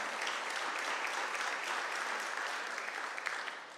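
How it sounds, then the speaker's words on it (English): Outdoor crowd applause at a groundbreaking ceremony for renovations at the Baltimore Arena, a steady crackle of many hands clapping together, moderately loud and fading slightly toward the end. "Let's give them a round of applause again for believing in betting in Baltimore."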